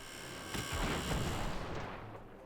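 Cannons on airships firing in the Airships: Conquer the Skies strategy game, a rough burst of booming shots swelling through the middle and then tailing off, loud and close with no talk.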